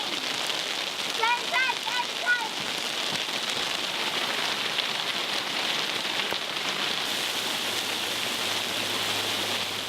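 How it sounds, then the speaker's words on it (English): Hail patters steadily at a lakeside campsite at Lake San Antonio in Monterey, California, a dense continuous drumming with a few brief chirps early on. "That's not snow, that's hail."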